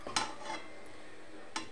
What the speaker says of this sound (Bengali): ভালোভাবে নাড়িয়ে নেব যাতে জলটা একদম শুকিয়ে যায়